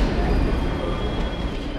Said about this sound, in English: I'm waiting for a train going to the station for the train to St. Petersburg